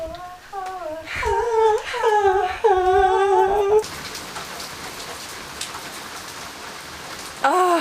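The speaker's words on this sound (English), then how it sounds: "I really love the sound of rain and thunder" Steady rain hissing close by, starting beneath a voice that talks in rising and falling tones, then continuing alone.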